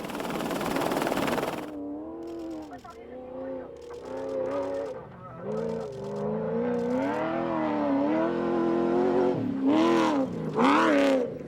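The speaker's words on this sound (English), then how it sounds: "Just listen to that sound, amazing, these cars through the dunes." Nissan rally cars roar through desert dunes during the Africa Eco Race, engines revving and rising and falling in pitch as they pass, loud and close after an initial burst of wind or spray, with shifting gears and occasional surges.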